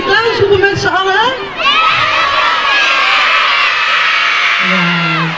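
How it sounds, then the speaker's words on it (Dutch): A crowd of children shouts a welcome to Sinterklaas at his sunny arrival in Nootdorp, a loud sustained collective cheer that swells after a brief voice and then fades. "Misschien kunnen ze nog één keer welkom Sinterklaas roepen met z'n allen"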